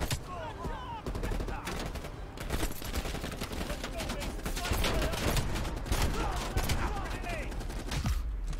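Rapid gunfire crackles through a Call of Duty Cold War match, with dense bursts of automatic shots and scattered single reports that keep on almost without pause, while a voice is heard partway through.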